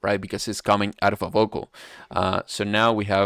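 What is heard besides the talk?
No distinct noise like a dog, phone or traffic.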